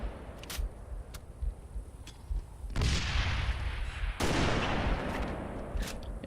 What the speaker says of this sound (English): Nice snipe there.